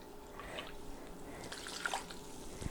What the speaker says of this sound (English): I'll add a half a cup of vinegar to there.